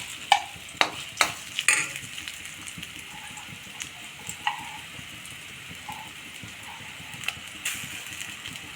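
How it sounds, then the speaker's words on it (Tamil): Food sautés in a little oil in a pan, stirred with a spatula that knocks sharply against the pan several times at first, then scrapes and taps more softly over a faint sizzle. "இது வந்து ஒரு ரெண்டு மூணு நிமிஷம் நல்லா வதக்கிடலாம்"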